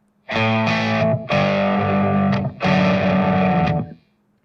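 Heavily distorted main rhythm electric guitars in a song mix, playing three sustained chord blocks separated by brief gaps, loud and close with a chorused, processed tone.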